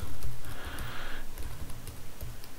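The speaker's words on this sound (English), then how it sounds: "If I type admin at" An email address is typed on a computer keyboard in a steady, close run of soft key clicks that keeps going the whole time, with a faint background hiss and no voices.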